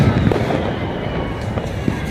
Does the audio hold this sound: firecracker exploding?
yes